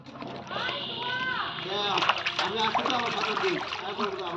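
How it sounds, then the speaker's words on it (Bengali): Banana leaves being washed in water outdoors in a village, splashing and sloshing steadily throughout, with children's voices and talk over it. "আমার কাছে একটা কলার পাতা ধোয়া হচ্ছে"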